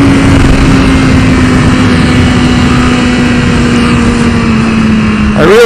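A 2015 BMW S 1000 RR motorcycle accelerates hard in sport mode, its engine a loud, continuous high-revving roar that climbs steadily in pitch and then drops abruptly near the end as it shifts.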